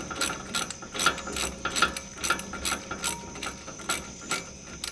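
A hand ratchet clicks steadily while loosening the caliper bracket bolts on a 2001 Ford F-150 during a brake job, a close, fairly quiet run of regular pawl ticks with no talk.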